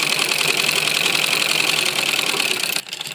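Sewing machine running steadily while stitching a pocket onto a men's kurta, a dense continuous whir lasting nearly three seconds before cutting off sharply near the end.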